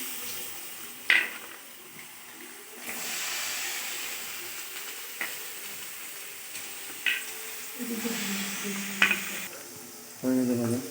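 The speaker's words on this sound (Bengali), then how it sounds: "তো এবার নেক্সট হচ্ছে গাজরটাকে ভেজে নেবে" Carrots fry in oil and ghee in a pan, giving a soft continuous sizzle and hiss with occasional sharp utensil clinks and a few stirring scrapes, fairly quiet and close.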